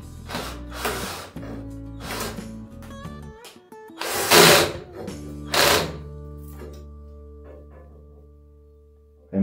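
A power drill drives needle-point screws to fix a fan mount into a styrofoam ceiling frame, making several close, loud whirring bursts with thunks and quiet pauses between them.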